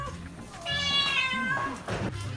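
A cat meows nearby, a drawn-out rising and falling call followed by a shorter one, with a person's voice speaking around it in a home.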